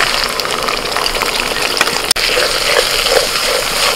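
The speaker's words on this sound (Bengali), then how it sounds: "একটু মশলা আমি গুলে রেখে দিয়েছিলাম সেটা দিয়ে দিচ্ছি" Spice paste mixed from cumin, coriander, chili, turmeric, Kashmiri chili powder and salt goes into a pan of fried ginger and green chili for a tender bottle gourd dish, giving a steady liquid gushing hiss with one sharp break midway.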